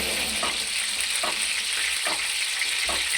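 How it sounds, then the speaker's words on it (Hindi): Kofta mixture is stirred in hot ghee, giving a steady bright frying sizzle with soft spoon scrapes at regular intervals, close and fairly loud, with no talking. "फौरन हिलाते रहना साथ साथ, क्योंकि नीचे चिपकने नहीं चाहिए।"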